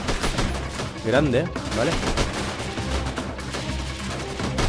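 Sniper rifle shots in the game Freeman: Guerrilla Warfare, fired at distant enemies, sound as sharp cracks under steady talk from someone speaking Spanish.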